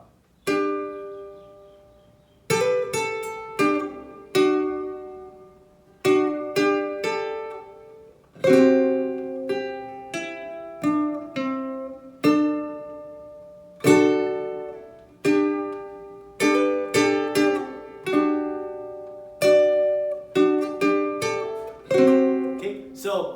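Ukulele strummed and plucked unevenly in a hesitant beginner style, chords and notes starting and stopping with irregular gaps and uneven timing, played close and alone without talking.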